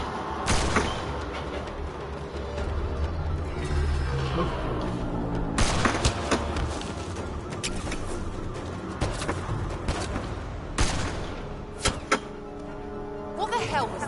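A video game shootout with a sniper: sharp gunshots crack at intervals amid steady background noise and shouting voices, some reports loud and close, others spaced apart, with a brief faint burst near the end.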